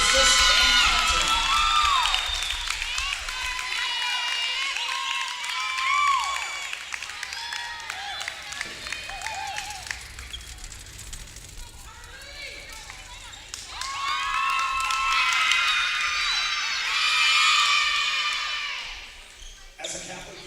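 A crowd at a women's college volleyball game applauds and cheers, with bursts of shouts and whistles, a quieter dip midway, then a fresh swell of cheering before fading; a voice over the announcer system is heard briefly.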